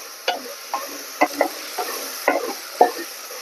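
Ginger garlic paste fries in a pan while being stirred, with intermittent close scraping strokes over a quiet sizzle and no voices.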